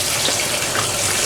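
Water rushes steadily into garden dirt in a container, a loud, continuous hissing flow that fills the whole moment with no pauses and no voices.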